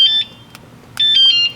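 A golf cart alarm sounds near and loud in two bursts of high electronic warbling tones with short clicks between them, separated by a brief gap, with no voices over it.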